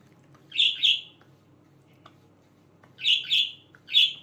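Loud, high bird chirps in short clustered bursts, one early pair and a trio near the end, with quiet room hum between them.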